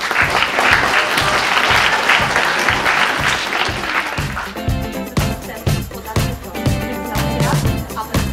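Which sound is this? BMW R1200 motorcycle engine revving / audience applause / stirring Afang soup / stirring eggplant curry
audience applause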